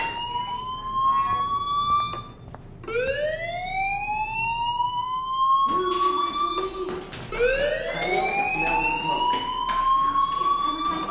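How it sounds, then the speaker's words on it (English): A fire alarm rings inside a school in the video game Life is Strange, with loud rising wails that sweep upward repeatedly, joined by sharp clicks, and no talk. "do you hear that fire alarm?"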